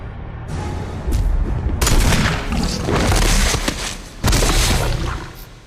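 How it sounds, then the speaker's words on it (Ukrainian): Loud gunfire and booming blasts erupt in a video game boss fight, with a revolver shot among several heavy bursts of noise that swell and fade, with no talking. "Один постріл із баріного револьвера вклав його на землю."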